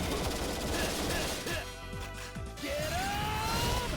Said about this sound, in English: You just hold down the button and it shoots out more rockets.